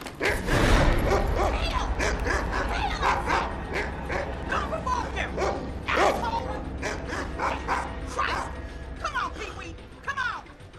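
A dog in a SAW film scene barks, yips and whimpers in quick excited bursts, loud and close, mixed with other film sound and voices talking.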